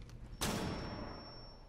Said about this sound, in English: Ah shit, flashbang.